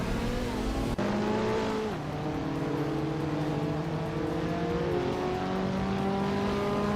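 Racing cars pulling away from a standing start, led by a 1967 Alfa Romeo 33 Stradale from pole: a steady, dense engine drone with rising and shifting gear tones and a sharp click near the start.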